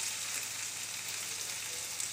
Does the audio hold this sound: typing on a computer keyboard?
no